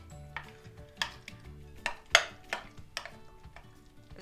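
Minced liver, lard and onion mixed with egg, salt and pepper for liver patties: a spoon knocks and scrapes against the bowl in a steady series of sharp, close strokes, about two per second, with no talking.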